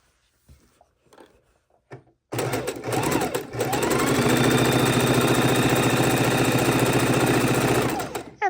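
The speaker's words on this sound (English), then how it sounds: "we can go ahead and start to sew" A domestic sewing machine stitches quilt block seams for a beginner ManCave quilt block, running in one steady, close, continuous whir after a few quiet handling noises at the start.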